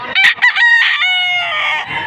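A rooster brought for sale at a poultry market in Padre Garcia, Batangas crows once, loud and close, in a full drawn-out cock-a-doodle-doo.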